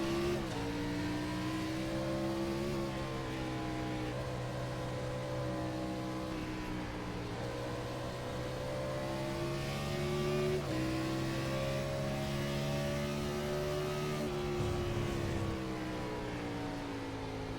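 A NASCAR Gen 4 race car engine in iRacing at the Sonoma road course roars loud and close throughout, its pitch sliding up and dropping several times as it shifts down through the gears.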